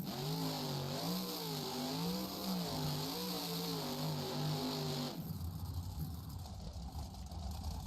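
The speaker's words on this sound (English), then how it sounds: "They're letting these trucks run today." Monster trucks at a freestyle event in Las Vegas keep their engines running, a loud near roar with revs rising and falling in waves for about five seconds before dropping to a rougher, steadier idle rumble.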